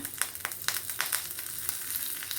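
Curry leaves hitting hot oil give a loud, crackling sizzle with quick spitting pops close by, settling into a steady fry with no voices.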